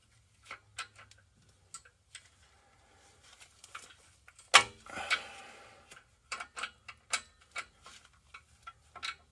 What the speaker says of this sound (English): I have ratchetable or ratcheting open ends here, which will make it a little bit easier